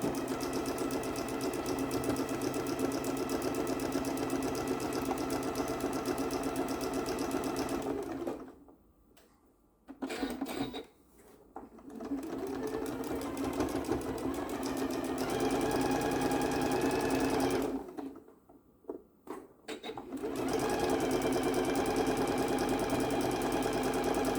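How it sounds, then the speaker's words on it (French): A sewing machine stitches quilt fabric pieces in steady, fast, loud mechanical runs that stop briefly twice before resuming, close up with no speech. "Et ensuite, on coud."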